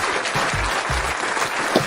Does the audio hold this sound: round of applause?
yes